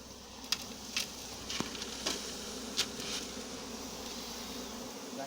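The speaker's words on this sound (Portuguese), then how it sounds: "Coloca umas abelhas aqui em cima." A swarm of bees hums steadily and close during capture from a nest, a dense continuous buzz with a few brief ticks and scrapes on top and no talking.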